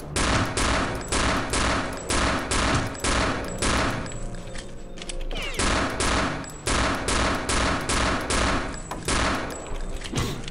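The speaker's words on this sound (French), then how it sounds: "je vais le sniper à l'ancienne" Rapid gunfire from the 2001 shooter game Return to Castle Wolfenstein, sharp repeated shots in bursts that run nearly the whole time with a brief lull midway, loud and close with no talk over it.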